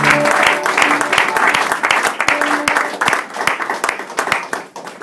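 A church congregation at a pastor's consecration service claps in a steady rhythmic beat, loud and close, with voices singing and calling out beneath the applause.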